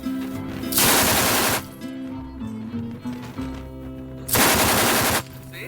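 Firearm gunfire at a shooting range: two loud, sustained bursts of rapid automatic fire roughly three seconds apart, with a quieter stretch of range noise and faint activity between them.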